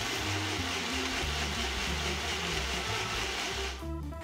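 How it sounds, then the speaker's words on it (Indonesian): A blender grinds spices with oil and water, giving a steady, loud, close motor whir that runs unbroken and shifts in pitch near the end as the load changes. "Ini kita akan blendernya menggunakan minyak dan juga air supaya lebih licin, dan blender sampai benar-benar halus."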